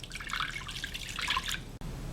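Water pouring from a cup into a pot of chicken chili with diced tomatoes, a steady close splashing trickle for about a second and a half, then quieter.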